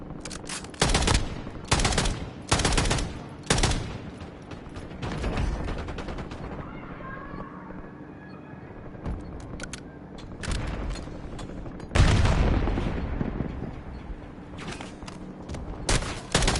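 Loud automatic gunfire in Call of Duty: Warzone, repeated sharp bursts separated by brief lulls, with a quieter stretch in the middle before heavy firing resumes near the end.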